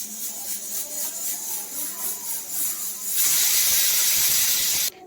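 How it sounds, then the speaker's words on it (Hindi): A pressure cooker's steady steam hissing, then a louder, brighter whistle burst of hiss that cuts off abruptly near the end. "ये कुकर देखो कैसे सीटी"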